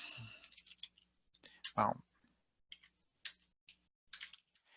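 Typing on a computer keyboard while entering text into a document, heard as scattered quiet clicks and short key bursts, soft and near, with pauses between strokes.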